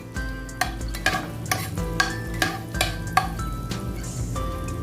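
Garlic sautés in unsalted butter in a pan under a soft, steady sizzle. Sharp scraping stir strokes sound at a regular rhythm, roughly every half second, close up.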